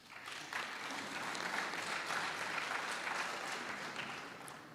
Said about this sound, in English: let's applaud this institution for that